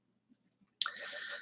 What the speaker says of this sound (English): right now, shuffling these big guys